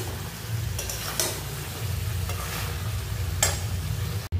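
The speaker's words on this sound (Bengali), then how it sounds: "এটাকে নাড়িয়ে এবার নামিয়ে নেব" Potato and cauliflower curry stirred in a pan, a steady soft scraping and low sizzle with a few sharper spoon scrapes, continuous and close, with no talking.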